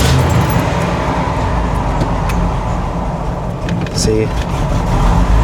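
A 1991 Ford F-150 truck engine idles roughly and unevenly with a steady, shaky rumble close by, a brief voice speaking over it partway through.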